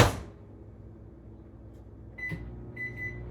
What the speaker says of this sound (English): I'm gonna pop this in the microwave real quick, just for about 30 seconds until it melts